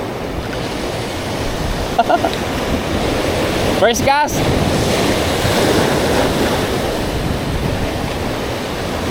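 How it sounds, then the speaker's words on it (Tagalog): Ocean surf washes steadily onto a beach, a continuous broadband roar with wind buffeting the microphone throughout; someone speaks briefly over it. "Ayun siya yung alon no."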